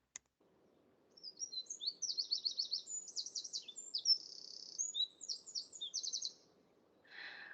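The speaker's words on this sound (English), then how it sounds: "So here is our wren." A small songbird delivers a long, rapid, trilling song of high buzzy notes and rattles, clear and alone against a quiet background.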